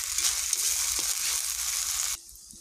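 Garlic, onion, salt, ginger paste and green chili paste sizzle and fry steadily in a hot pan, a loud continuous hiss that cuts off abruptly near the end, leaving faint quiet.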